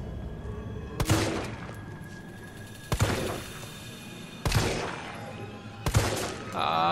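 Four separated heavy gunshots in Resident Evil 3, each a sharp loud crack with a decaying tail, spaced a couple of seconds apart over a low game ambience.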